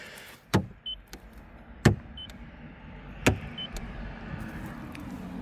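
Power mirrors on a 2022 VW Passat B8 2.0 TDI auto-fold as the car locks, giving a few sharp clicks and thumps a second or so apart, each followed by a short motor whir, close by with no talking.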